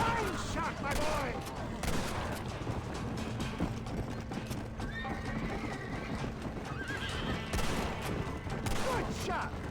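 Gunshots ring out in the Red Dead Redemption 2 video game, sharp cracks scattered through a busy mix of galloping hooves and whinnying horses, with voices talking over the action.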